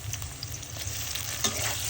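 Large shrimp dropped into a pan of frying mixed vegetables and green chilies, hissing in a close, steady sizzle with a brief louder spatter.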